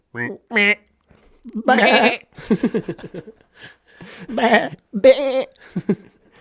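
A voice imitates a goat's bleat in several wavering, nasal bursts, interspersed with other people talking and laughing close to the microphone.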